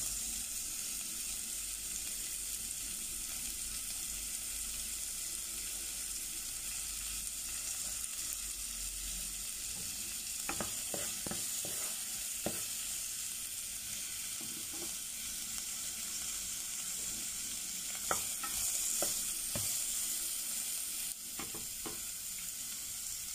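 Minced garlic and onion fry in a pan for a spicy Spanish sardines pasta, a steady close sizzle with occasional scraping stir strokes in the later part, no talking.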